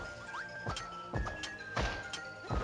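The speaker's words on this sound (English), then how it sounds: "Taking a exploding shuriken star to the forehead sounds very painful." Exploding shuriken stars striking in Kirby 64: The Crystal Shards, a series of sharp, punchy thwacks spaced roughly every half second over bright game tones, with a few small whooshes between hits.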